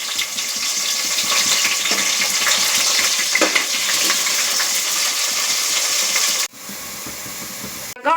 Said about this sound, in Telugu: ఆనియన్స్ వేసేసుకొని ఒకసారి కలిపేసుకోవాలి.